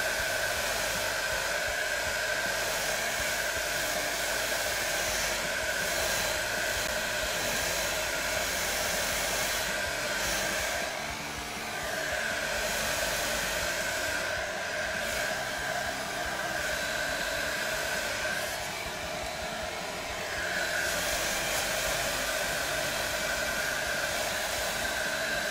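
A hair dryer blows steadily and loudly on a Revell MiG-21 F-13 Fishbed C model kit, a constant whooshing roar with a few slight dips as it is moved, with no voices.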